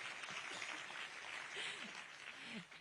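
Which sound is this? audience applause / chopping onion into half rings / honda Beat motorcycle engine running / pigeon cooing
audience applause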